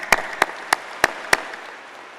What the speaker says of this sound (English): And each of you deserves our hearty applause.